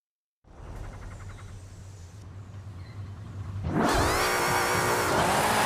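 A rear-wheel-drive drift car with a 6.2-litre V8 developing 750 bhp idles with a steady low hum in Forza Horizon 5, then roars into a loud, sustained high rev that continues to the end.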